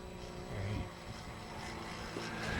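A radio-controlled model airplane engine throttled back to a lower speed, giving a steady, moderately loud droning buzz with a constant pitch that holds throughout at some distance.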